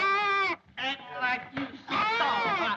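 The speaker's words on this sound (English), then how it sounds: "A goat in your mint bed." A goat in a garden mint bed bleats close by: a long wavering call, then a few shorter broken cries, ending with another drawn-out quavering bleat.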